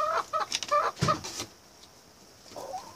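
A few short clucks from a chicken, close by, clustered in the first second and a half, then near quiet with a faint rustle.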